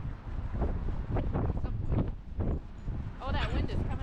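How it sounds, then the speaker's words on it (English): Gusty outdoor wind buffeting the microphone in a cold winter setting where puppies are playing, a loud rumbling roar that swells and dips, with people talking briefly over it. "Oh, that wind is coming up."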